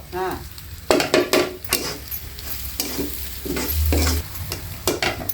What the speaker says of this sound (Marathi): आता हळद टाकते आता मसाला हा कांदा लसूण मसाला